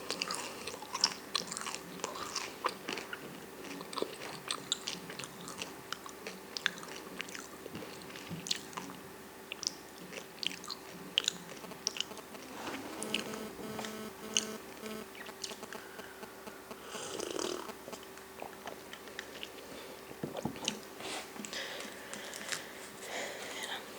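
M&Ms and fruit snacks are chewed close to the microphone, with quiet irregular crunches, squishy bites and mouth sounds over a soft background hum.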